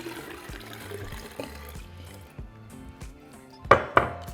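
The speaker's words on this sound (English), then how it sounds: "to our jar, we're also going to be adding between 6 to 8 cups of water" Water poured into a jar of horchata mixture, liquid gurgling and splashing close by with a couple of sharper glassy clinks near the end, no talk.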